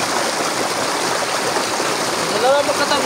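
River water flows with a steady, broadband rushing and splashing, close and continuous, with a faint voice briefly rising over it near the end.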